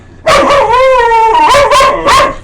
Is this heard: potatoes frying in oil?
no